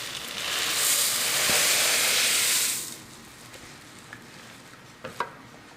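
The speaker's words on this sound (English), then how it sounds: "And you're just going to keep stirring it." Rice Krispies cereal being stirred into a melted mixture for chocolate Scotcheroos: a loud, steady rustling hiss for about three seconds, then quieter, with a few faint clicks and scrapes near the end.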